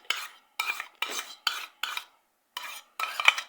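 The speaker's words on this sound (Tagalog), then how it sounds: "Mix ng condensed milk at evap milk." Condensed milk and evaporated milk being mixed for dessert, with seven distinct bursts of a utensil stirring and scraping against a container, close and fairly soft, separated by brief silences.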